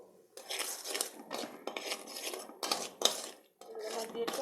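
Shrimp are stirred in a metal cooking pot while preparing biryani. A utensil scrapes and clinks against the pot in short, uneven bursts with brief pauses, close and clear.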